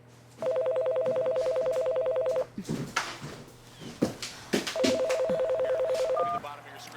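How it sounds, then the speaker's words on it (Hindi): A telephone rings in two pulsing electronic bursts, each lasting a couple of seconds, with voices talking in the gap between rings. "जहाँ फोन बज रहा है"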